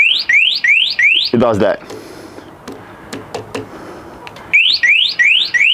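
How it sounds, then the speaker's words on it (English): A Horwin CR6 electric motorbike's anti-theft alarm wails in repeated rising sweeps, loud and close, stops while someone speaks briefly, then resumes the same sweeping pattern. "That's the alarm."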